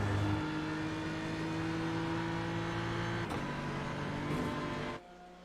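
A GT race car in a 10-hour Le Mans endurance racing game drones at steady high revs, with brief rattling bumps as it runs over the curbs, then the engine note drops off near the end.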